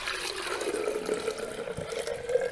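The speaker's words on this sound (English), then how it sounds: "Now we're ready to pour the tea mixture into our jar." Blue butterfly pea iced tea mixture pours steadily into a jar, a continuous gentle liquid trickle and fill sound with a slowly rising tone, close by and without talk.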